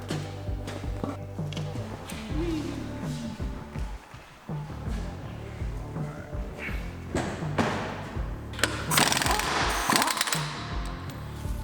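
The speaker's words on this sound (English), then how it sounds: "If not, we're going to drill a hole and make our own." A power drill bores a hole through the firewall of a Ford Mustang during an alcohol and nitrous install, with bursts of grinding, rattling metal contact and thumps, loud and close, with a harsher sustained stretch toward the end.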